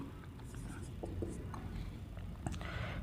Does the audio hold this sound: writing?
yes